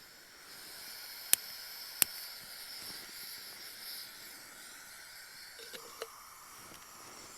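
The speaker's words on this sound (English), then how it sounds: "so I'll get the stove lit now." An MSR Windburner camping stove burns with a steady, quiet hiss on a frosty Dartmoor wild camp, with two sharp clicks early on and a few faint knocks near the end.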